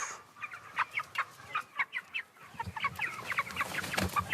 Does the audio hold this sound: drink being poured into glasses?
no